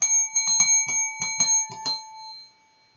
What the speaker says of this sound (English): Ring the bell, Vinny.